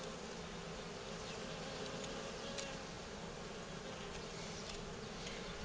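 Honeybees buzzing steadily around an opened Dadant beehive, a continuous dense hum of many insects close by, with no talking.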